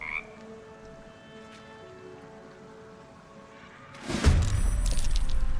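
A frog croaks in the video game Baldur's Gate 3, its calls close and clear over a soft ambient backdrop, followed by a sudden louder burst of splashing, rain-like noise near the end.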